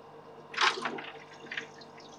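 Ice from an ice machine drops into cooling water for a K40 laser tube with a single soft splash, followed by faint bubbling and trickling in an otherwise quiet setting.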